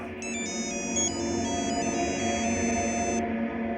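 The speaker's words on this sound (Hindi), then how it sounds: "पुलिस स्टेशन से फोन है" A phone ringtone chirps in repeated electronic bursts over a steady background hum, continuing for several seconds before stopping.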